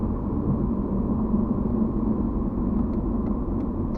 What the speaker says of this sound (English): As you can tell, I'm braking and the car is not downshifting, it's staying in 5th gear.